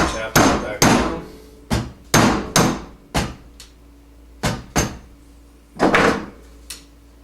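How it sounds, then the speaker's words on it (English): A flat screwdriver sharply taps a part back down inside a KYB rear shock during a suspension rebuild, landing about ten loud metallic knocks in uneven clusters, close by with no talking. "Your flat screwdriver, tap that back down"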